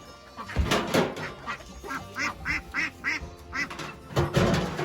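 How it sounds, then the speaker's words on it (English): A duck quacks repeatedly in a steady run of nasal calls, close and fairly loud, among other farmyard birds near a homestead with a stuck lever, while a person talks briefly over it. "Move over, duck."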